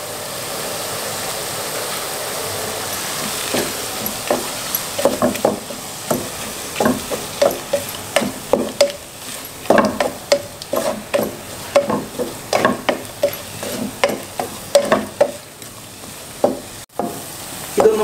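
Crushed garlic, ginger and curry leaves frying in a pan for Kerala chicken thoran, a constant sizzle punctuated by quick rhythmic stirring scrapes that grow busier over time, close up and without speech.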